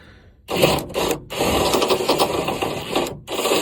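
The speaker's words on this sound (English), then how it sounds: "The hole is being drilled. Personally, I like to use a step bit" A step bit drills a hole for a Ford F-350 dually fender brace, a loud grinding whir that starts after a quiet moment and runs in bursts with brief pauses between.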